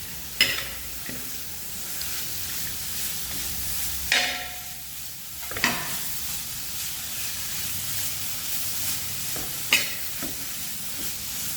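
Shallots and onions sizzle steadily in hot oil in a Kerala-style pan, with a spoon stirring and scraping through them in a few distinct bursts over the continuous frying hiss.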